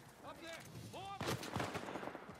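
Sniper rifle fire in Uncharted 4 lands as a few heavy booming shots after a burst of game voice chatter, the reports loud and close with a brief echoing tail.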